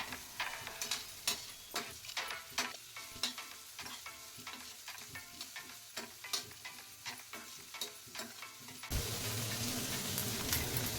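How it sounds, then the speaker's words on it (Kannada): Curry leaves and neem pieces sizzle in hot oil in a pan for a potato sabji, with a steady fry hiss broken by frequent sharp spatters and scraping stirs, then a louder continuous sizzle near the end. "ಈಗ ಇದನ್ನು ಚೆನ್ನಾಗಿ ಫ್ರೈ ಮಾಡಿಕೊಳ್ಳಿ ಎರಡು ನಿಮಿಷ ಫ್ರೈ ಮಾಡಿಕೊಳ್ಳಿ"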